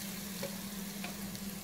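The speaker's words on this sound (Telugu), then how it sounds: "తర్వాత అందులో కొబ్బరి తురుము వేసుకోవాలి." Grated coconut frying in two spoons of ghee in a pan, a dense continuous sizzle close up with faint stirring, no voices.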